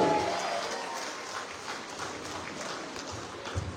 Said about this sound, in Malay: terlebih dahulu berikan tepukan kepada orang-orang juara yang berjaya menghibur